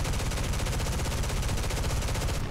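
Rapid sustained machine gun fire from an F8F-1 fighter strafing in War Thunder, a dense unbroken rattle of shots at a loud steady level with no speech over it.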